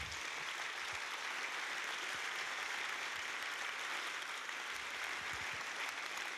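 Warm, sustained applause from a theatre audience honouring Daniel Benoît and his team at a season presentation, a dense, even wash of many hands clapping continuously at steady volume throughout.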